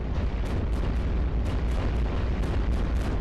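Bombers dropping explosives in the game iBomber Defense set over the Western Mediterranean, a heavy continuous rumble punctuated by repeated sharp booming blasts at irregular intervals, loud and close, with no voices.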